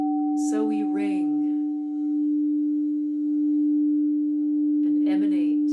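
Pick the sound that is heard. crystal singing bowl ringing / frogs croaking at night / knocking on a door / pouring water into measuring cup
crystal singing bowl ringing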